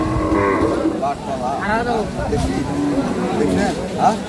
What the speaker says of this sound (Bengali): আমবাড়িহাটে যে দুধের গাভী গরুগুলো প্রায় বিক্রি করা হচ্ছে